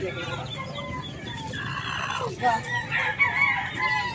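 A rooster crows amid a busy, noisy outdoor scene with other fowl clucking and background chatter.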